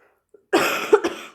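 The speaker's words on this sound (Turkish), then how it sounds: "O yüzden bu tür öksürük kesintilerini lütfen e, anlayışla karşılayın." A sick teacher coughs during a chemistry lesson on the mole concept: a faint throat sound, then a close, harsh cough burst followed by two quick further coughs, with no talk.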